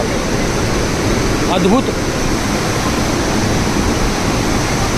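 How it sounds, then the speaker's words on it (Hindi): Montmorency waterfall in Quebec, Canada, pours with a loud, constant roar of falling water that fills the whole clip, with a brief spoken word over it. "उद्दाम वेग से ये वाटरफॉल नीचे की तरफ गिर रहा है।"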